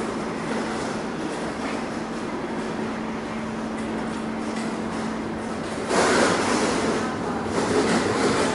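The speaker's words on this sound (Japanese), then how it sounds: "まもなくね、深谷の電車到着します。" A Kintetsu train arriving at Osaka Namba station, a steady rumble of rolling stock with a constant hum that swells louder near the end as the cars draw in.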